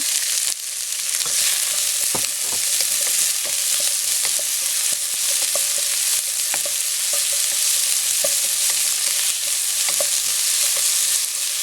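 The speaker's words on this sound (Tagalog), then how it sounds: "Okay, isote lang natin itong onion." Onion sautés with garlic in a pan for a soup, a loud, dense sizzle heard up close with frequent rhythmic spatula scrapes and taps throughout, and no voices.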